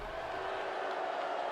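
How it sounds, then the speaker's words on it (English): A wrestling audience at a Friday Night Fights show roars steadily, with scattered whoops and cheers blending into a constant wash of crowd noise. A voice can be heard faintly beneath it. "This crowd on their feet."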